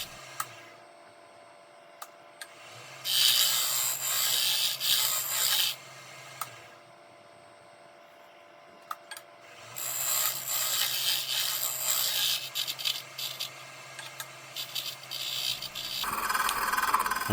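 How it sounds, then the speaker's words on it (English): Skew chisel cutting a wooden measuring-spoon cup on a lathe, giving rasping, scraping bursts over a steady motor hum with pauses between passes, close and clear. "So I'm using the skew chisel to do that."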